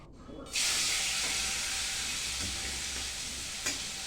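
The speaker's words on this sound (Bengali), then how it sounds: "দেখতে পাচ্ছ আমার মাছ ভাজা হয়ে গেছে।" Fish frying in a pan, with a sudden loud hiss and sizzle bursting in after a moment of near quiet, then holding steady and close with a brief spatter near the end.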